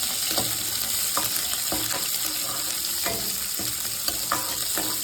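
Onions sizzle steadily in a pan while a spoon stirs them, giving a constant frying hiss broken by repeated scraping and clinking strokes against the metal, close and alone with no talking.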